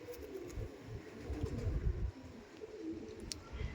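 A pair of Andhra Kalshira pigeons coo softly, with low murmuring, rolling calls that repeat across a few seconds at close range.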